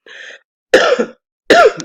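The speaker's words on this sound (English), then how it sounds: "I'm sorry, this cough is about to get me" Three short, harsh coughs close to the microphone, spaced a fraction of a second apart, with silence between them.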